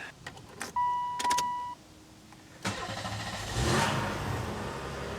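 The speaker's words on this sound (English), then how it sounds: "Now I think we are ready to start the car." A 1994 Oldsmobile Cutlass Supreme convertible engine cranks and catches after a few clicks and a brief electric whir, then settles into a steady idle close by.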